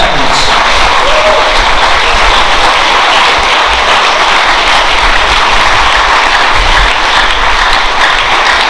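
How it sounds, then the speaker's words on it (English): A large crowd at a school sports banquet applauds continuously, a thick wash of clapping that stays loud and even throughout, with a low rumble underneath. "Give a big round of applause for our senior athletes."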